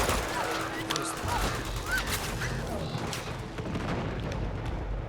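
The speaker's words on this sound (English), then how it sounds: "What the hell are they shooting at?" Gunfire erupts in a firefight in the Uncharted 2: Among Thieves video game, with dense, steady bursts of shots and booms filling the scene under some game noise.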